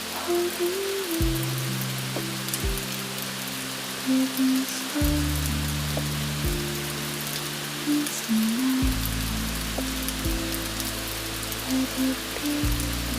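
Night rain over Tokyo pours in a continuous, even wash, broadband and unbroken, with low held musical tones shifting underneath and a soft voice murmuring over the steady patter.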